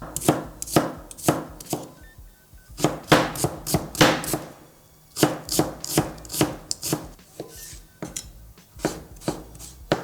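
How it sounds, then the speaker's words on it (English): A knife chops carrots into bite-sized chunks on a board for beef soup, with steady, close, fairly loud strikes in quick bursts separated by brief pauses. "You don't want to cut your carrots too small."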